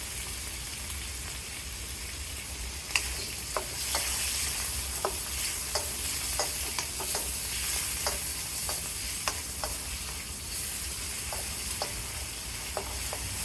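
Squid and other seafood frying in a wok, with a steady bright sizzle throughout and frequent quick scrapes and taps of a utensil, loud and close.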